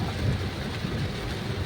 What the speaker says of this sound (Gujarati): આટલો બધો વરસાદ.